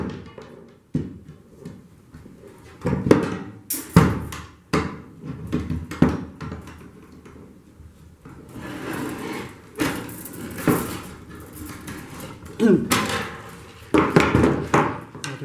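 Thick 9-gauge steel wire being bent by hand for a light show prop, with scattered metallic clanks, creaks and knocks in irregular bursts, fairly close and moderately loud.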